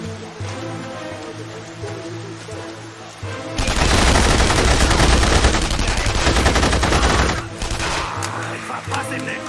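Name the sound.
enemy gunfire in the video game The Saboteur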